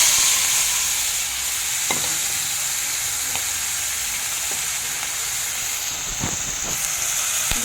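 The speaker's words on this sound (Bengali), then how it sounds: "চিংড়ি মাছটা ভেজে নেবো" Prawns rubbed with salt and turmeric fry in hot oil, giving a continuous loud sizzle and hiss heard up close, with a few sharp clicks and taps from the utensil as they are turned.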